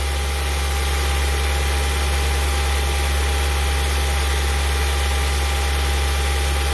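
A Honda CR-V engine holds a steady 2500 RPM during a VTEC solenoid test, a loud constant drone with a strong low hum and no change across the span, no voices.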